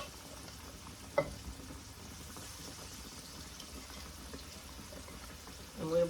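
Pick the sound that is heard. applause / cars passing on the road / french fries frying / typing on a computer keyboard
french fries frying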